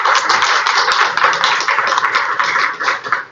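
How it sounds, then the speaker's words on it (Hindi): An audience at a political gathering claps, with dense, continuous applause for about three seconds before it tapers off. "इनको एक बार जोरदार ताली से इनकी बातों को स्वागत किया जाए।"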